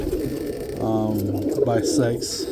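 Roller pigeons coo in a loft, a low, soft, throaty burble that repeats several times, with someone talking casually over the birds.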